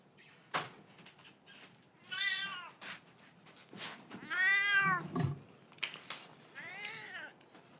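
An elderly cat meows several times, a series of clear, drawn-out, fairly close cries spaced by short pauses, with faint handling noises between them.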